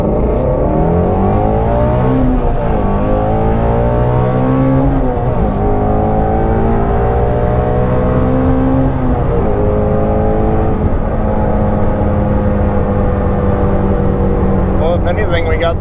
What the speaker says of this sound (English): We are going to push in the clutch, rev it out, dump the clutch, see what happens.